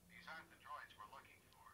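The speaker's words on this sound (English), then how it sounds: "That was Richard's phone." A mobile phone rings with a faint, melodic ringtone in a podcast recording room, and muffled voices run underneath.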